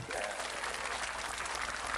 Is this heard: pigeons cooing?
no